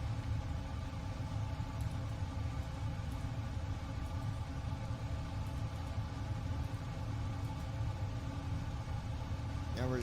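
Airliner jet engines running steadily during pushback, a constant loud low roar and whine with no breaks, heard from inside with faint clicks over it.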